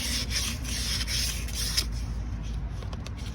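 Corroded metal and old grease being rubbed off a Saab brake part, a steady close scraping and rubbing texture that runs continuously, with a slight intensity change near the end.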